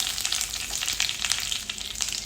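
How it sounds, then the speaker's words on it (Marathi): Cumin and whole spices sizzling in hot oil in a pan, a dense, close and fairly loud crackling hiss with rapid popping that holds steady throughout. "तर मी इथे जिरे टाकले, जे खडे मसाले घेतलेले आहेत ते टाकून घ्यायचे सगळे."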